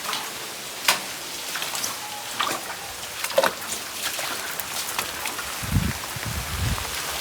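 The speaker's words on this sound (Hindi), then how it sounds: "आप देखिए बारिश से स्टार्ट हो गई तो पानी की बौछारें यहाँ पर प्रारंभ हो चुकी है।" Rain falling at the historic Kumbhalgarh fort palace, a steady hiss of drops with occasional louder splashes and drips close by, fairly loud and continuous without talk.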